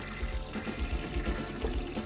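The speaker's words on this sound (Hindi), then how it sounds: "flush is flushing" A toilet flushes with a faint, steady rush of water pouring and gurgling through the bowl, with no voices.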